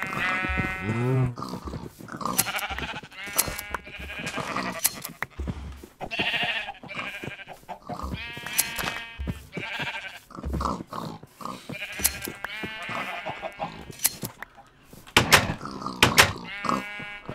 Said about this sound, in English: God, I love sheep.